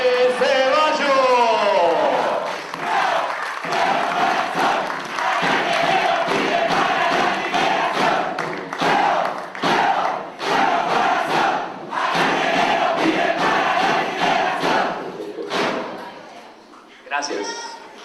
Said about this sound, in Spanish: Fuerte el aplauso, recibamos al candidato a gobernador, Jorge